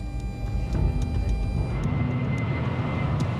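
An airplane climbs after a normal takeoff toward 8,500 metres, its engines making a continuous broadband roar that stays loud and steady throughout, heard alone without voices.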